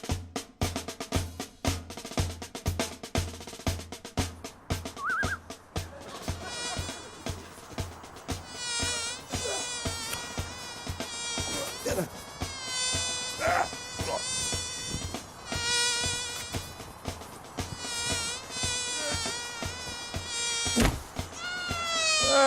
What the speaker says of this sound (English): Hey, a bee.